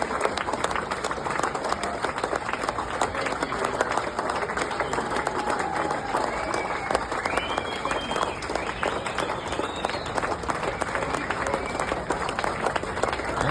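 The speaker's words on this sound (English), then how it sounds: "Minnesota AG Keith Ellison refuses to clap for veterans arriving on an honor flight to visit D.C. memorials." Steady, dense applause from a large crowd greeting veterans arriving on an honor flight to visit Washington D.C. memorials, continuous and loud throughout with a few faint voices and whistles mixed in.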